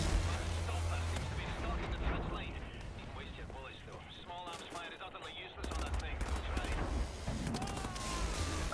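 In the shooter game Wolfenstein: The New Order, a grenade blast and gunfire sound out as a loud, dense barrage of booming shots and explosions that continues throughout, with a brief lull partway, while someone talks over it.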